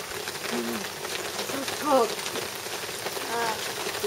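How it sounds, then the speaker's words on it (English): Hail falling outdoors on a hillside, a dense, steady patter of small hits on surfaces throughout, with faint voices in the background. "It actually started hailing right now"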